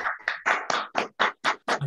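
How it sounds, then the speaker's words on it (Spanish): Eight crisp, evenly spaced claps, close and loud, greet master Jorge Mendoza, a karate sensei, as a tribute after his talk. "Un aplauso para el maestro Jorge Mendoza."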